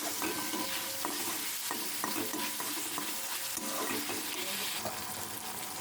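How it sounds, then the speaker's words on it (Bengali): Fried potatoes tipped into a pan of cooked spice masala and stirred, a dense close sizzle mixed with repeated scraping and clattering of the spoon, continuous and fairly loud with no talk. "এবার যে আলুটা ভেজে রেখেছিলাম সেটা দিয়ে দিচ্ছি"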